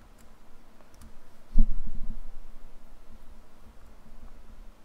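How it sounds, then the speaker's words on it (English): Faint, sparse clicks and taps on a computer keyboard during a roleplay gaming session, scattered keystrokes over a quiet background with one duller knock partway through. "You'll just probably hear me typing most of the time."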